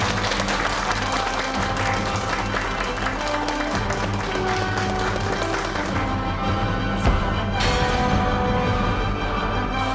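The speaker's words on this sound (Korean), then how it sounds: "여러분, 박수로 맞이해 주십시오." A studio audience on a Korean TV talk show claps to welcome guests, a steady dense wash of applause mixed with background music, with a brief louder swell near the end.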